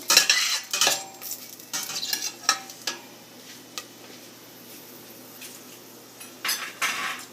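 Spice seeds are stirred in a cooking pot with a metal utensil. Sharp scrapes and clinks come in short irregular bursts, then a quieter stretch with faint sizzling, and a few stirs return at the end. No one speaks.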